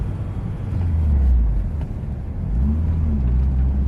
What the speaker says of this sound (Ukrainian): Вихлоп чути, я не знаю, навіть сусіднім машинам, напевно.